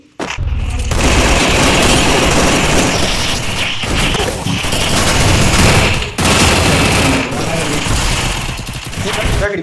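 Gunfire in the Free Fire video game comes as loud, almost unbroken volleys of rapid shots and booming blasts, with voices mixed in underneath.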